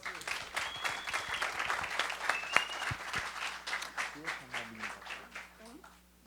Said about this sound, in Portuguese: Você poderia bater uma outra salva de palmas, por favor?